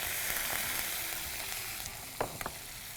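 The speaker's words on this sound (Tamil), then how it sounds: "இப்போது இந்த கருவேப்பிலையில் போட்டுலாம், வெங்காயத்தை போட்டுரும்." Onions and curry leaves fry in a pan with a loud, continuous sizzle and crackle, close up and without any voices.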